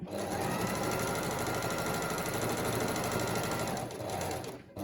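A sewing machine stitches a fabric face mask in one continuous, loud, close run of fast steady whirring needle strokes that eases off near the end.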